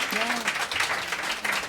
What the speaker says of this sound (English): So a round of applause, quick, guys.